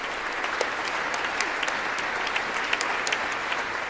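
A roomful of people claps steadily and loudly for Ukraine's president after his speech to the US Congress, sharp individual claps blending into sustained applause that echoes in a large hall.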